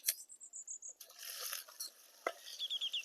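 Green chilli pieces and cumin seeds fry in a pan with a soft, close sizzle, broken by stirring scrapes and brief clinks of the utensil, all fairly quiet.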